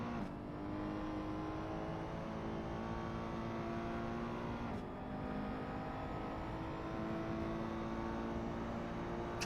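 A race car's engine in a racing video game, on a vintage 1967 Silverstone circuit, drones steadily and loud throughout as it powers out of a corner, with one brief dip in pitch midway and no talking.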